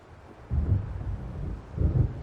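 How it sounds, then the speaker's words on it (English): Low rumbling thunder from an approaching storm in the video game Alan Wake, two deep rolling swells building and fading within a couple of seconds, with a windy, washy background and no speech. "It seems there's a storm coming."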